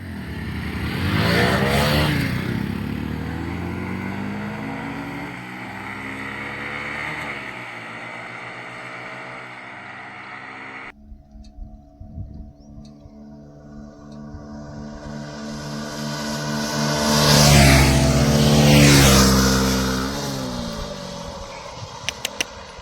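An HF Deluxe and a TVS Sports motorcycle race side by side, their engines revving hard and loud. They rise and fall through gear changes, with a second surge of acceleration passing close by.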